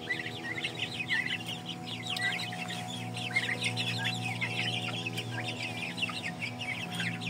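A flock of poultry, including turkeys, Shamo and Indio Gigante chickens, clucks and chatters continuously, many birds at once, close and busy, over a steady low mechanical drone.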